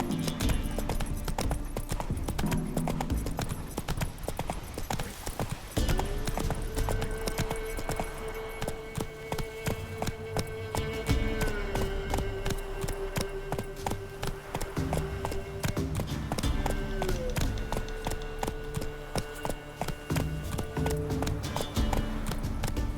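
Roach the horse gallops in The Witcher 3, a steady run of rhythmic hoofbeats continuing throughout under a layer of game music.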